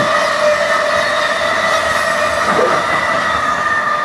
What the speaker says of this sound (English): There's a train right outside the practice space we're in, so gonna be some pauses for that.